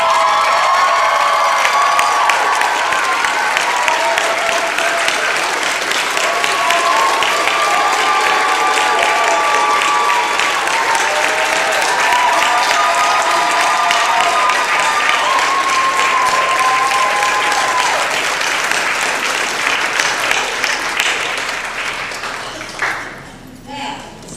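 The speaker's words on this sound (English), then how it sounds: "give the loudest round of applause you can give to our extraordinary faculty" An honors convocation crowd rises in long, loud standing applause and cheering for the faculty, with dense clapping, whoops and shouts sustained for over twenty seconds before tapering off at the end.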